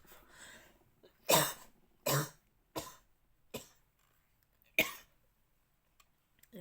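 A woman coughs in a series of sharp, close bursts, about six separate coughs spread unevenly with short pauses between them, with no talking.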